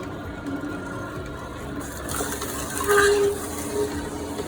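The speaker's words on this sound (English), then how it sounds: "First, we start the juicer." An electric juicer runs with a steady mechanical whir while diced amla is fed in piece by piece, giving brief clicks and a louder grinding surge midway, close by, with no talking.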